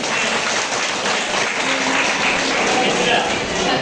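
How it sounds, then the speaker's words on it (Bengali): Applause from the audience at a school debate rolls on as a thick, even wash of clapping hands throughout, loud and close, with voices mixed into the crowd. "জোরে হাততালি চাই, জোরে হাততালি।"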